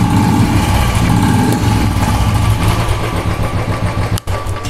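A Royal Enfield Bullet motorcycle's engine revs loudly and continuously under the throttle, a dense steady engine roar that holds close up before briefly cutting out near the end.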